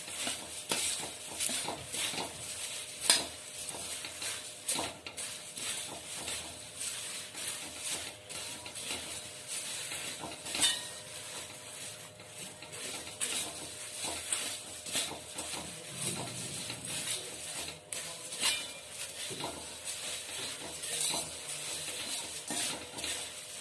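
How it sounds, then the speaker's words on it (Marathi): Puffed rice chivda stirred in a pan over a low flame gives a steady, soft scraping and rustling with light clinks of utensil on metal throughout, no talking. "मंद आचेवर हलवायचे, गॅस फुल नाही करायचा."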